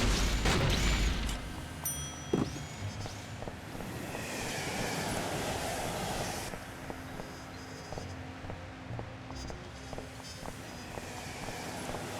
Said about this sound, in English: Gonna take a midnight train.